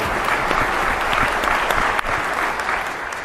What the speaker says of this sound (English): give yourselves a round of applause for appearing here now